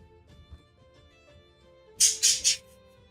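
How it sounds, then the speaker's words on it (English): Birds give three quick, loud, harsh squawks in a row, close by, following a quiet stretch with faint background noise. "Shut up, birds."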